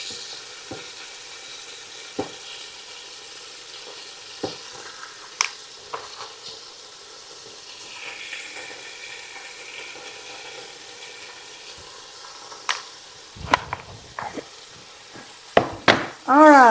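Pork loin browning in a pot gives a soft, steady sizzle, with occasional sharp clinks and scrapes of utensils and a louder clatter near the end.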